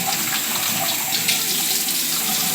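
Tap water runs steadily into a sink as a man wets his neck before shaving, a close, continuous splashing hiss with no one talking.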